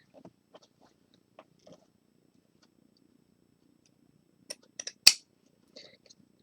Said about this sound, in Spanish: Estas tijeras son un poquito duritas, cuesta un poco, o por lo menos estas realmente son de Ikea.